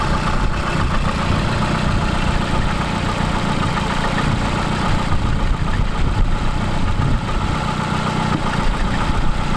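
A Volvo engine idles steadily and close, a dense continuous rumble with a faint irregular knock and no noticeable change in pitch.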